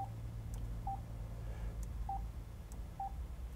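Four short, faint electronic beeps from a car touchscreen keypad as a name is typed, spaced unevenly over a low steady background hum.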